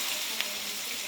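Onions sauté with fennel, cinnamon and chilli for chicken biryani, a soft continuous frying hiss with one small crackle, fairly faint and steady.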